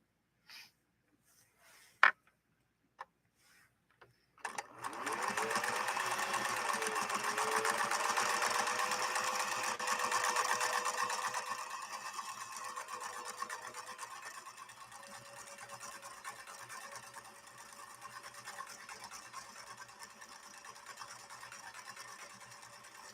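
A Viking 21E sewing machine runs a steady stitching whir after a few light clicks, continuous and close, with the motor tone easing slightly toward the end; no one speaks.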